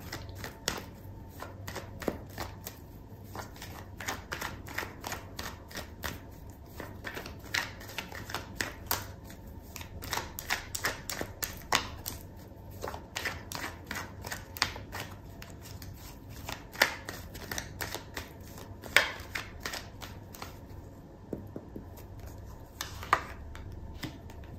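A tarot card deck is shuffled in rapid, irregular riffling and tapping of cards that runs steadily throughout at low level, with no one talking.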